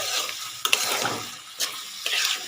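Small fish with capsicum sizzling in hot oil while a spatula stirs and scrapes the pan, close-up frying hiss broken by a few sharp stirring strokes.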